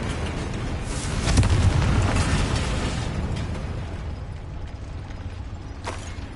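A Confringo fire spell blasting in Hogwarts Legacy: a loud, close burst with a rumbling roar that swells and slowly decays, then a brief crackle near the end.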